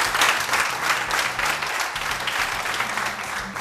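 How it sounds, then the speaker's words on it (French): Audience applause at an Ivorian youth arts and culture TV show: dense, steady clapping from a crowd, fairly close and sustained throughout, with no talk over it. "Je vous demande d'applaudir très fort notre amie Conan Davila."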